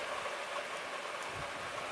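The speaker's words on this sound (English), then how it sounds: "So you can hear it's starting to rain a little louder." Steady rain falls outside as a dense, even hiss, fairly loud and constant throughout, with no voices.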